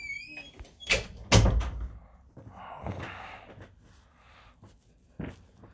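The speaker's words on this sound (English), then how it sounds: "Can you close the door, please?" A door shuts indoors with a few firm thumps, the loudest around the middle, among other household knocks and rustles; a brief voice-like sound occurs but no clear speech.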